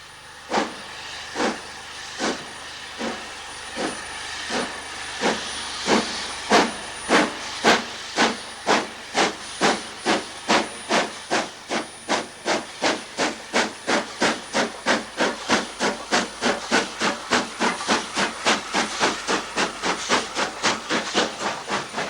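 A steam locomotive on a preserved railway chuffs hard and rhythmically up the 1 in 49 gradient from Grosmont to Goathland, its exhaust beats starting slow and steadily quickening and growing louder as it labours uphill.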